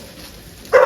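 A herding dog with its tail held high barks in excitement beside a livestock herd, a single sharp, loud bark bursting in at the very end after a quiet stretch.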